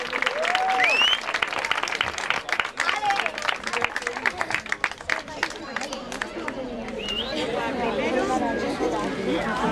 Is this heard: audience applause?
yes